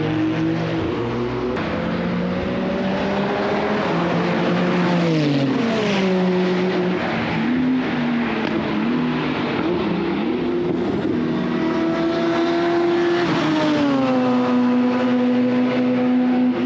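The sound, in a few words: cars driving at a race track day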